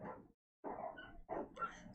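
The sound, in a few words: dogs barking outside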